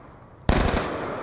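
Machine gun fire erupts abruptly in Call of Duty: Black Ops 2 multiplayer, a loud, close, continuous burst of rapid shots after a quiet lead-in.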